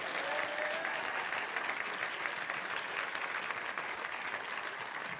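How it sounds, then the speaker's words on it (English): A large audience at the Famelab International Final in Cheltenham applauds the finalists with dense, sustained, even clapping that fills the hall without a break. "all of them, to bask in your warm applause"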